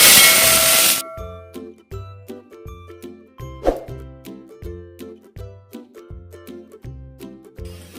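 Finely chopped onions drop into a hot pan for chicken dum biryani, a loud hiss of steam opening the moment, followed by a repeated rhythmic tonal pattern that dominates the rest.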